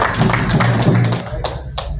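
Applause at an investment forum for a singer, a burst of clapping and taps with talk mixed in underneath, fairly loud and close, with a couple of sharper claps standing out near the end.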